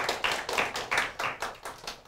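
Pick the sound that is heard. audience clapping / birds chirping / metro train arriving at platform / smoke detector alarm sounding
audience clapping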